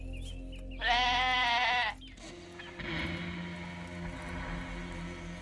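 A goat lets out one loud, drawn-out bleat nearby, then quieter rustling and background noise follow.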